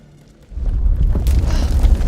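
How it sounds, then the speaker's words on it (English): A deep, loud earthquake rumble swells in after a quiet start and holds heavy low-end force in a horror video game, with a gritty crackling edge building on top. "Oh, great timing for a quake."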